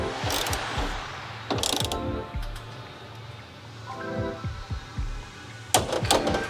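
Torque wrench tightening bolts on solid copper busbars during an industrial 250A power supply and MCCB panel installation, with a few sharp metallic ratcheting clicks and clunks spaced apart, close by, without talk.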